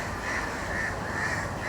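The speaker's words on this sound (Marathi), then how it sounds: "सकाळी बघा खूप कावळ्यांचा चिमण्यांचा आवाज येतो ना" Crows caw repeatedly in the morning, their harsh calls coming in a steady, overlapping chorus at moderate distance with no talking.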